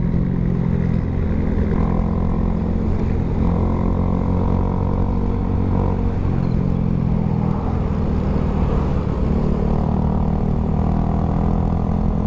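A Raider J115 Fi motorcycle with aftermarket shock and swing arm riding fast on a curving road, its engine droning loud and continuous with a steady low growl and slight rises in pitch, no talk over it.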